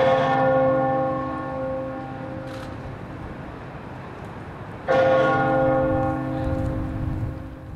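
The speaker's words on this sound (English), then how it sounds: "The bell at Liverpool Town Hall tolled 97 times" The large bell at Liverpool Town Hall tolls twice for the Hillsborough anniversary, each deep ringing strike fading slowly before the next one sounds about five seconds later.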